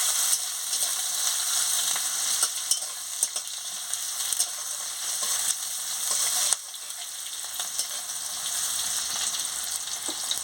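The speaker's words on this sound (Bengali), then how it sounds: "তেল গরম হয়ে গেছে, আমি এবারে পেঁয়াজ কুচি দিয়ে অল্প করে পেঁয়াজ কুচিটাকে আমি ভেজে নিচ্ছি।" Chopped onions fry in hot oil in a home kitchen, giving a steady, dense sizzle with small crackles and occasional stirring clinks, close and continuous with no talking.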